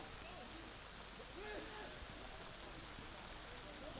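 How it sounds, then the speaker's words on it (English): Rain falls steadily on an outdoor schoolboy rugby match, making a faint, even hiss in the background with a few distant voices from the ground. "can hear perhaps in the background the rain."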